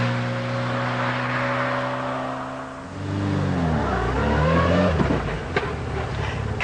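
A 2001 Fiat Punto HGT Abarth engine revs, a steady drone giving way to rising and falling throttle blips with a rough mechanical growl, loud and close, no talk.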